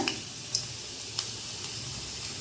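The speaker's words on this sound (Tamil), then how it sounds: "இது நல்லா பொரியட்டும்." Lentils frying in hot oil for Andhra paruppu podi give off a soft, steady sizzle, punctuated by a few sharp, isolated pops and ticks.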